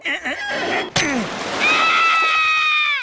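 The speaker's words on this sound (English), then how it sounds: "accidentally pours hot grease all over Lois, nearly killing her" Hot grease pours and splashes in an animated show at a fast food restaurant counter, with a sudden loud splash followed by sustained sizzling and a high screaming tone.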